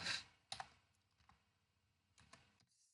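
Computer keyboard typing in short bursts: a quick cluster of clicks, a pair of sharp keystrokes, scattered soft taps, then another brief flurry of keys, close and quiet.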